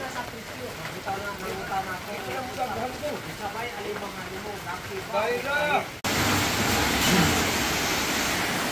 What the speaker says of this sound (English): Check out the rain, guys.